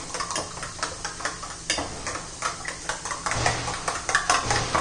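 Eggs whisked by hand in a bowl for egg kebab, a rapid run of light clinking and tapping strokes against the bowl, steady and close, with a faint low hum underneath.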